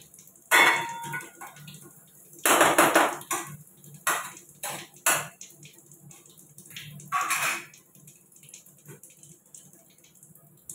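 Metal cookware clatters and knocks in a home kitchen as a griddle pan is set down after making egg bhurji. Several sharp, separate clanks and scrapes sound close by, with quiet gaps between them.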